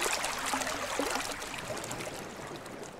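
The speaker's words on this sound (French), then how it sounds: "De l'eau! Mais c'est un torrent qui s'échappe!" Mountain torrent rushing and splashing over rocks, a steady, fairly close wash of flowing water with no voices.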